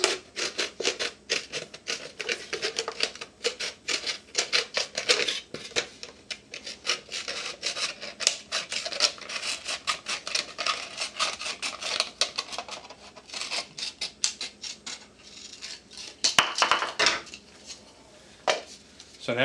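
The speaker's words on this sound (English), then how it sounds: "and cut along your line." Scissors cut along a marked line on a plastic bottle, a long run of rapid, close crunching snips and scraping plastic, steady and busy, with faint movement noise and no talk.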